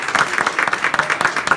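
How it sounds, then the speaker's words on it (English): An audience at a Unity Speakers club meeting claps in a brief burst of brisk, rhythmic applause, close and fairly loud, without voices over it. "oh, you love the applause, right?"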